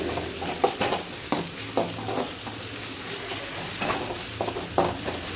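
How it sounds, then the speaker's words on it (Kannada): Crushed garlic sizzles and fries in a pan while being stirred for a soya chunks veg biryani, a steady hiss punctuated by repeated scraping stirs of the spoon, close and fairly loud. "ಅದನ್ನು ನೀಟಾಗಿ ಜಜ್ಜಿಬಿಟ್ಟು ಈಗ ಮಿಕ್ಸ್ ಮಾಡ್ಕೊತಾ ಇದ್ದೀನಿ ಹಾಕ್ಕೊಂಡು"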